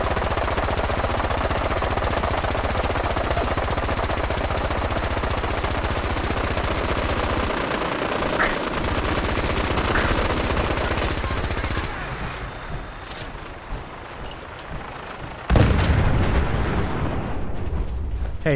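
Dense, sustained automatic gunfire and booming blasts from combat in the video game Fallout 4, loud and continuous for most of the stretch, thinning briefly before one heavy burst near the end.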